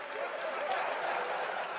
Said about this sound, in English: Yeah, still applauding.